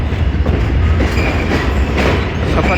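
Rehman Baba Express passenger train running at speed, loud and close, with a continuous rumbling roar and rhythmic clattering of wheels over rail joints.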